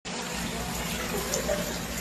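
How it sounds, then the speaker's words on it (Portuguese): Floodwater pushes into a luxury hotel after a storm, a steady broadband rush and wash of moving water that stays fairly loud and constant throughout. "A água tá subindo ainda mais"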